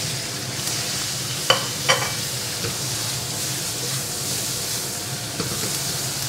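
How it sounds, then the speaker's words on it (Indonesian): Chili and star anise stir-frying in a hot pan, a steady loud sizzle with a couple of sharp clinks of the spatula early on, close and continuous. "Habis itu tumis cabai."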